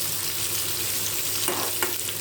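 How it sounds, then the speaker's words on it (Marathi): Onion masala mixture frying on a low flame, a dense continuous sizzle with a couple of brief spatula scrapes near the end, no voices. "स्लो गॅसवर पूर्णपणे भाजून घ्यावं"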